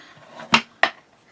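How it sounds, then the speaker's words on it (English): Two sharp, close scraping strokes sound about a quarter second apart as a tool burnishes a score mark along a straight edge, each one loud and brief, with quiet between them. "sorry for the loud noise, but give it a nice burnish"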